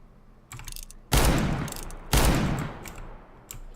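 Revolver shots fired through a wall in a competitive shooter game: two loud, sharp broadband blasts about a second apart, set against quieter clicks and faint mechanical clatter before and after.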